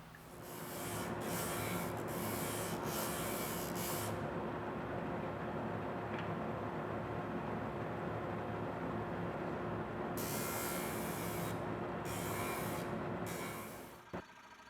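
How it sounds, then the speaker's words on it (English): Steady hand-sanding of a wooden foot on a bentwood library stand, a continuous close rasping rub with brighter strokes at the start and again near the end, without speech. "sand up the foot so that it'll sit flat"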